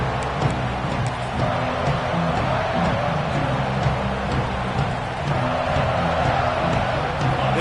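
Football stadium crowd at a Penn State versus Oregon game, a dense continuous roar of cheering that holds steady and fairly loud throughout, with no clear breaks.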